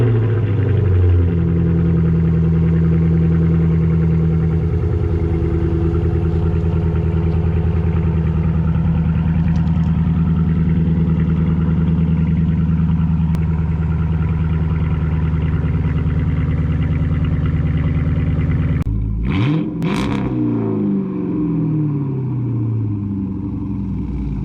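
A Dodge Magnum's Hemi V8 idles close by, a loud, steady low rumble holding even for about twenty seconds before its tone shifts abruptly near the end.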